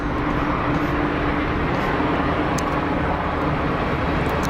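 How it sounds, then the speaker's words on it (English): Airliner landing at Geneva Airport with heavy thrust reverser use, a loud, steady broadband roar that fills the whole clip without letting up. "Massive armful of reverser. Yeah, trying hard to get it stopped before that first taxiway"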